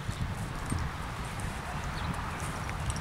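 Hoofbeats of a bay horse being worked through changes of lead, a steady stream of close, rhythmic clip-clop thuds with a little rustling alongside.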